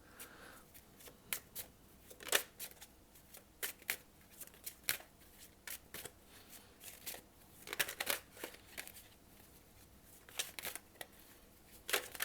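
Tarot cards are shuffled and drawn close by, in quiet bursts of riffling and soft slaps scattered between stretches of near-silence.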